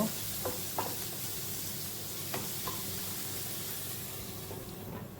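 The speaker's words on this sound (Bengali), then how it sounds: "ঢাকা দিয়ে এটাকে আমি ভালো করে ভেজে নেব।" Boal fish frying in a covered pan, a steady low sizzle and hiss running throughout with a few soft clicks and taps of stirring near the start and middle.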